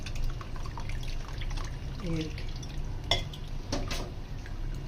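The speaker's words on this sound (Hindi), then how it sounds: "अब इसके ऊपर से आपने ताज़ा पानी डालना है" Fresh water trickles and splashes over cooked tapioca in a kitchen, a soft, continuous liquid pour with light clinks of a pot or utensil and a few brief noises, close and fairly quiet.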